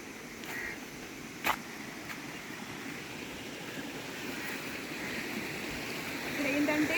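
Water flows steadily down from above into a stream in Araku Valley, a soft continuous rushing that swells toward the end, with a sharp click early on.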